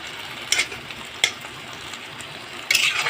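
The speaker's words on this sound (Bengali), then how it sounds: "দেখো ভেন্ডি যখন ভাজা হবে, নুন জল বেরোচ্ছে" Okra (bhindi) sizzles steadily in a pan, releasing water as it fries, with a few sharp scrapes and clatters from stirring breaking through the hiss.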